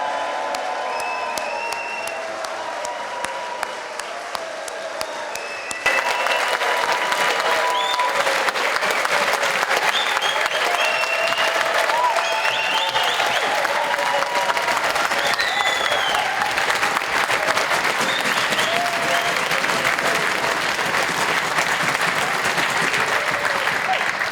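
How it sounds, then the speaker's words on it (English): A crowd at a memorial gathering breaks into loud, sustained applause and cheering that swells after a quieter opening few seconds, then keeps going as dense, continuous clapping with occasional whoops for over twenty seconds. "Please give him a really huge cheer for his life."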